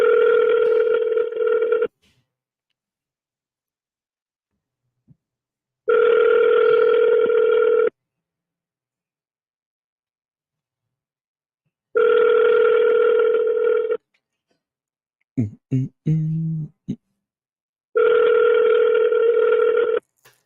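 An outgoing call rings back through the phone line as four evenly spaced two-second tones separated by silence, with a brief muffled voice-like burst between the third and fourth.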